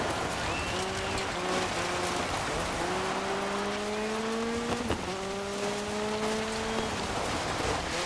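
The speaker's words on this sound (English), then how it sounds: "Oh, it's raining in my face." Rain falls steadily in the Dirt 5 racing game as a car drives through an aqueduct, engine tones rising and falling with gear changes beneath a constant hiss of rain, with no talk.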